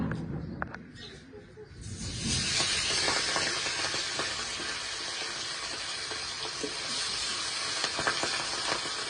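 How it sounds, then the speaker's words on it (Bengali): Katla fish pieces rubbed with turmeric and salt frying in hot oil, a steady loud sizzling hiss that starts after a quieter lead-in and continues throughout with small pops and crackles. "তেলটা গরম হয়ে গেছে, এবার মাছগুলো এক এক করে ভেজে নেব।"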